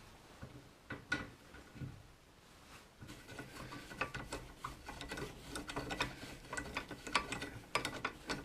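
A ratchet clicks in quick, uneven bursts as it turns the rear strut bolts on a Subaru Outback. The metallic ratcheting is close and fairly loud, with brief pauses between runs and no talking.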